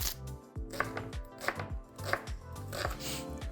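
An onion being chopped on a board for pike-perch fish cutlets, with crisp, close knife strikes in a steady rhythm of about two per second. No voices.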